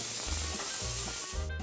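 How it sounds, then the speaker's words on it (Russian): Chicken fillet frying in a pan of olive oil with finely chopped garlic, a steady close sizzle and hiss running unbroken, with low rumbling bursts underneath. "Выкладываем курочку, обжариваем с двух сторон до готовности, сбрызнем лимонным соком."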